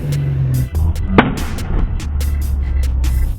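An EF Honda sedan at a beach car gathering lets off sharp exhaust backfire pops, several loud close bangs in a ragged burst over a low idling rumble.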